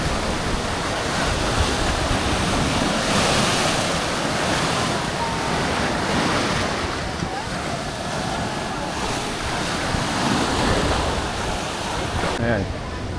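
Ocean waves at high tide roll and wash continuously, close and loud, mixed with gusty wind buffeting the microphone.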